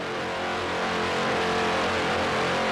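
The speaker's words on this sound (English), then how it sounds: "you can hear those Mercury power plants revving up as Gifford Racing gets on plane" Mercury engines on the Gifford Racing powerboat revving up as the boat gets on plane at an offshore race start, a steady loud broadband engine roar with low harmonic drone, continuous and close.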